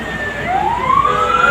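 Wailing siren from fire brigade and ambulance vehicles at a blaze at Masco Plaza, Blue Area, a rising tone sweeping upward, loud and near over a steady background rumble.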